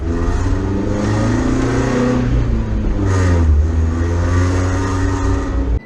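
A rally car engine revs hard and close, its note rising and falling through several throttle blips with a rough mechanical clatter, loud and continuous with no speech.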